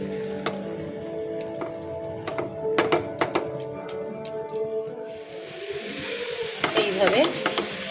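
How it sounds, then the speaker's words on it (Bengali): Mango sandesh mixture being stirred in a pan, with a string of scraping, tapping spoon strokes against the pan over a soft sizzle, growing busier toward the end. "খানিকটা নেড়ে চেড়ে নিয়ে এইবার আমটা দিয়ে মেশাচ্ছি"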